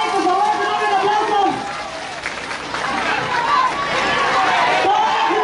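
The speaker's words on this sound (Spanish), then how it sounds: "Hay que despedir al candidato hoy, por favor, que nos den un aplauso." Crowd at a campaign closing rally for candidate Arturo Hernandez in Misantla cheering and clapping in a sustained, dense wash of applause and chatter, dipping briefly midway before swelling again, with voices mixed throughout.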